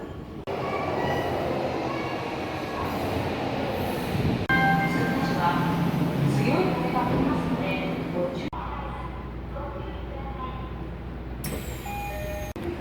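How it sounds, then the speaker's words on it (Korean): An Odakyu Line commuter train runs in through-service with the Tokyo Metro Chiyoda Line, a loud onboard rumble with rising and falling motor whine and a sharp shift midway. "도쿄 메트로 치오다선과 직결 운행하는 오다큐선 전철을 타도록 하겠습니다."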